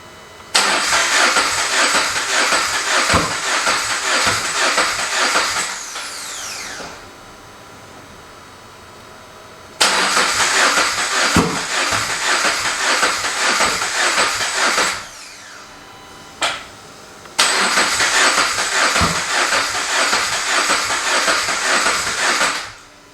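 A Subaru BRZ engine cranks loudly in three long bursts, each a steady whirring churn that stops abruptly, with sharp pops and a short sputter in the quiet gaps between attempts.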